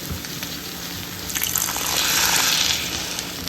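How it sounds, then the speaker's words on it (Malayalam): Water is poured into a pan of simmering ivy gourd and raw mango curry, a steady gushing splash that swells midway and holds close and clear, with no talk over it. "നമുക്ക് അതിലേക്ക് ഇനി കുറച്ച് വെള്ളം ഒന്ന് ചേർത്ത് കൊടുക്കാം."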